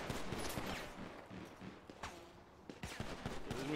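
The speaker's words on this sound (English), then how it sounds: "This is me shooting." Rapid bursts of gunfire in GTA roleplay, a fusillade of sharp shots in quick clusters, fairly loud and close, with a few scattered thuds between volleys and no talk over it.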